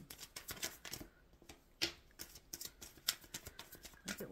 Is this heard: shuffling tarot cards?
yes